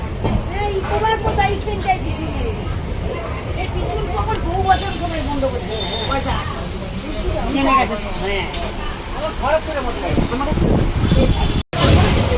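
A moving train rumbles steadily while passengers chatter all around, a crowded babble of voices over the rolling noise.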